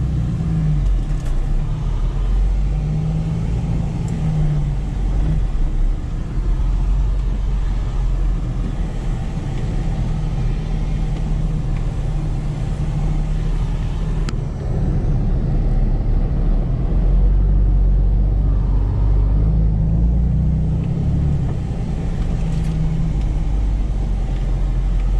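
Steady low engine rumble and road noise from inside a car on a short drive near a bass-fishing spot, continuous and fairly loud, with slight shifts in pitch as it moves along.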